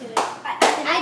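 Hands clap at a 9th birthday party right after the birthday song, two quick close bursts of clapping with children's voices mixed in.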